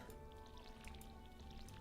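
A watering can sprinkles crops in a cozy farming video game, giving a faint, soft patter of pouring water that runs steadily under a low hum and light clinking effects.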